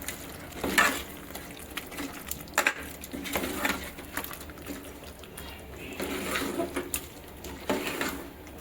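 Chicken stirred and fried in a pan for a home-cooked dish, with a spoon scraping and tossing pieces in repeated bursts over a steady low sizzle, close and fairly quiet.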